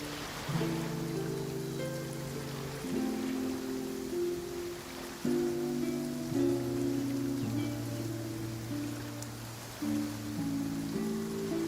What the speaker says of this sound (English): I love listening to the rain from the courtyard.